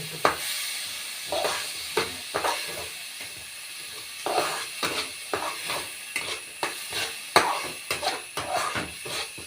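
Vegetable rice made with raw white rice is stirred in a hot pan, with a steady run of scraping strokes over a soft sizzle, fairly close and without talk.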